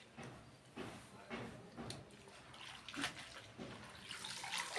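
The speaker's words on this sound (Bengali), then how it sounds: "এই দেখো সর্ষে শাক ধুয়ে নিয়ে আসছি।" Mustard greens being washed by hand in water, with soft sloshing and splashing swirls rising and falling close by at a low level.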